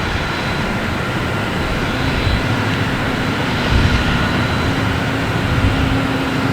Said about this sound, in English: We have United Airlines, an A321neo coming in from Denver